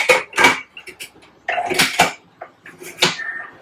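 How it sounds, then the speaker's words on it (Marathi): Metal pot lid set onto a pot of freshly cooked rice in a home kitchen, with several clanking knocks and rattles of cookware close by, no talking. "त्याला लावते, झाकण लावते."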